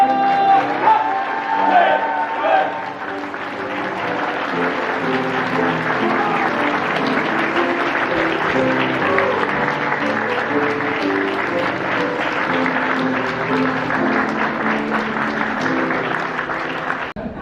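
Wedding guests clap warmly as the groom enters the ceremony hall, a loud, sustained round of applause. A brief voice and some music come before it.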